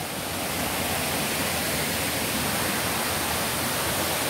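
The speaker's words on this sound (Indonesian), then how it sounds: "Satu kata untuk air terjun ini. Keren abis!" Waterfall at the end of the 1001-steps trail, a broad, constant rushing roar of falling water, steady and unbroken throughout, with no voices.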